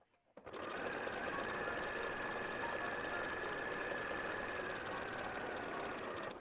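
A sewing machine stitches fabric in a continuous, even mechanical whir with rapid needle chatter, starting abruptly after a brief quiet moment and running steadily, close and clear.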